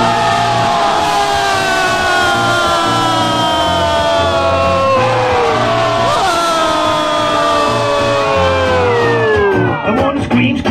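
A live concert crowd yells and screams loudly, joined by whoops and bellows over loud, continuous band music that fills the room.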